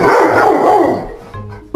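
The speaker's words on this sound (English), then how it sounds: "Worst dog in the world." A dog lets out a loud, close bark that trails off into a whine, with a short yip at the end.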